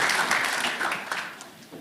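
A community-event audience applauds an arts and culture panel, the clapping fairly full at first and then thinning and fading toward the end.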